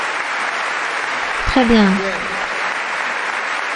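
Applause from a church congregation during a Bible study gathering, a short burst of clapping rising briefly amid a steady room murmur while someone speaks over it.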